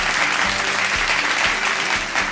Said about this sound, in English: please welcome with a round of applause our top 2 finalists, Anjali KS and Himanshi Bharadwaj